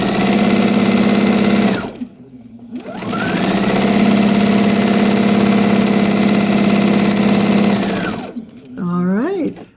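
A sewing machine chain stitches pairs of quilt pieces from a beginner patchwork quilt kit, running loud and steady in two long bursts with a short pause between them.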